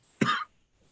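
A single short cough from a person, dry and abrupt, fairly close, then quiet.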